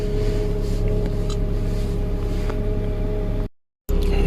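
A Honda Accord engine idles steadily after its starter motor is replaced, giving a loud, even hum throughout that breaks off in a short gap near the end.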